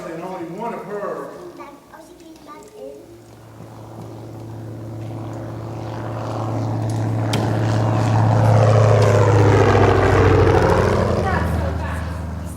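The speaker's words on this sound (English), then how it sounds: "Oh, bush plane." A propeller-driven bush plane drones over the Arctic wilderness in a military simulation game, its engine hum building from faint to loud and steady as it approaches, with voices talking over the start.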